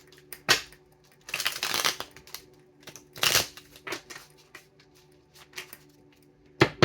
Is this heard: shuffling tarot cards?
yes